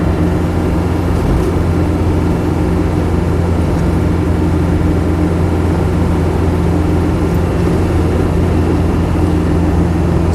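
Land Rover Defender 90 with the 200Tdi diesel engine cruising at steady speed on knobbly off-road tyres, a loud, constant low droning rumble heard from inside the cab.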